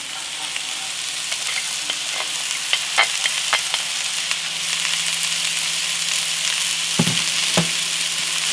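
Vegetables sizzle and fry in a Dutch oven on a gas grill, a steady crackling hiss throughout with scattered pops and a couple of louder clatters near the end.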